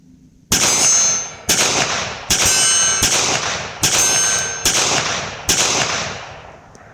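A Ruger LCP Max pistol firing, roughly eight sharp, loud shots in an uneven sequence, each followed by a ringing decay.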